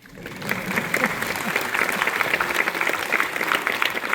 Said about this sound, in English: You guys can clap for them.